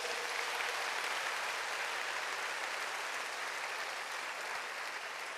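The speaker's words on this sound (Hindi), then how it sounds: "सभी हमारे देश के रत्नों के लिए, भविष्य रत्नों के लिए जोर से तालियां बजाइए।" Steady, dense applause from a large audience clapping for children at a gathering, sustained at an even level throughout without any talk.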